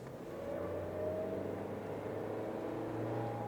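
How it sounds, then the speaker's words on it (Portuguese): A Suzuki Jimny Sierra small SUV engine hums and rises in pitch as it revs at low speed, about 30 km/h, heard as a steady droning whine from inside the cabin. "Tá vendo como o barulho do motor invade aqui dentro?"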